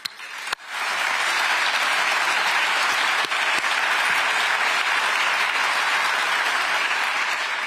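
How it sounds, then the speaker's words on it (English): Loud, dense audience applause fills a hall at the Rheinmetall artillery plant in Unterlüß, Germany, during a NATO Secretary General's tour. It swells in after a sharp early clap and holds steady and close throughout. "So every applause is warranted for you, Armin, and your people"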